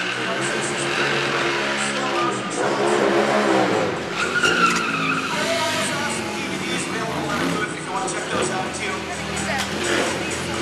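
Ducati motorcycle doing freestyle stunts at an indoor motorcycle show, tires skidding and engine revving loudly and continuously over an announcer's commentary.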